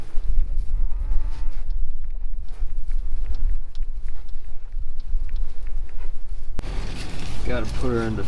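Cattle and calves in a snowy field low repeatedly, with several near moos across the stretch over a steady rumble of wind and movement, and a louder burst of calling toward the end.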